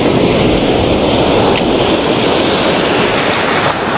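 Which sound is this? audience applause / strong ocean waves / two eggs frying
strong ocean waves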